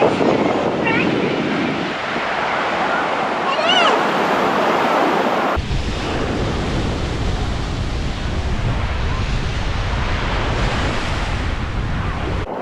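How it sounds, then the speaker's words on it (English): Ocean waves rolling onto the beach at Myrtle Beach's Ocean Lakes, a loud continuous wash of surf mixed with heavy wind buffeting the microphone, with no clear talk. "We're out for a little walk on the beach after dinner."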